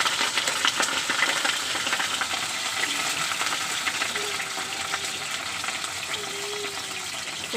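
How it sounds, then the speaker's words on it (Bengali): Cauliflower pieces sizzle and crackle steadily in hot oil in a pan while cooking an aloo phulkopi curry, with a continuous close-up frying hiss. "এইবার আমি ফুলকপিগুলো দিয়ে দেব। ফুলকপিটা ভেজে নেব।"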